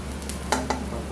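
Onions frying in a hot pan and being stirred, a steady close sizzle broken by a few sharp scraping stirs.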